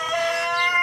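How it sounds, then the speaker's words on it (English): Hens in a hen house give a short, bright vocal call lasting under a second, fairly close and steady with no talking. "So over there in this hen house,"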